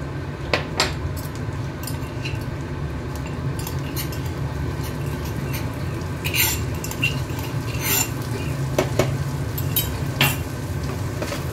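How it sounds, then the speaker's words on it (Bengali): Green chili paste frying in a pan while being stirred, a steady low sizzle with occasional sharp clinks and scrapes of a utensil against the metal, close up. "কাঁচা লঙ্কা পেস্ট দিয়ে দিচ্ছি।"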